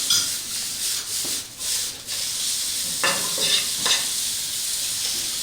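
Vegetable spring roll filling stirred in a pan, a loud scraping and rubbing that goes on throughout with a light sizzle underneath and a few sharper scrapes near the end.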